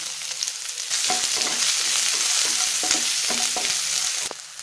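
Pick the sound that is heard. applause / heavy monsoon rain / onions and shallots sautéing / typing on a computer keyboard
onions and shallots sautéing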